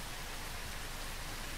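Heavy rain roars as a constant, dense hiss in the puppet video game No Strings Attached. It is uniform and close with no pauses, and no voices are heard.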